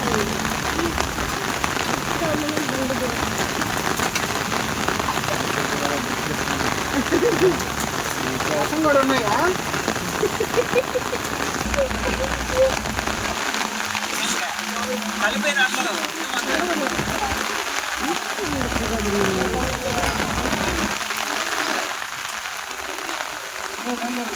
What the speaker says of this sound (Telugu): మోందా తుఫాన్ రాత్రి నుంచి నెల్లూరు జిల్లాని వణికిస్తూ అతి భారీ వర్షాలు చిన్నపాటి గాలులతో